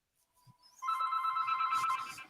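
A telephone rings, starting with a faint thin tone that swells into a steady electronic bell trill lasting well over a second. The ring is fairly quiet and nobody speaks.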